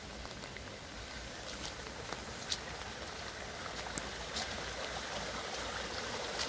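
A stream swollen by flooding rushes and gurgles in a continuous, fairly faint wash of flowing water, steady throughout with small splashy ticks and no voices.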